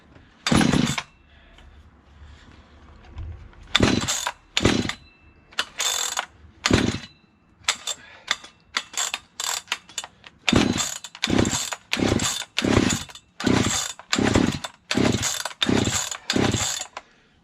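Vintage 1970s Stihl 031AV chainsaw being worked on, heard as a series of loud, close mechanical bursts, short pulls or brief engine catches that come sparse at first and then fall into a steady rapid rhythm, with no talk.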